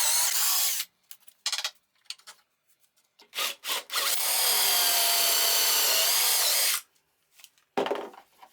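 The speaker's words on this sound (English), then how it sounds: "I drill the holes to join the 4 corners of the frame" A power drill bores dowel holes into the corners of a wooden frame held in a doweling jig: several short loud bursts, then one long steady run of about three seconds, then a final brief burst.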